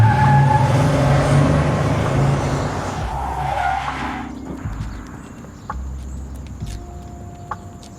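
A car tears away from outside a church with a loud skidding tire screech and roaring engine that fade over a few seconds, leaving quieter ambience with faint clicks and tones.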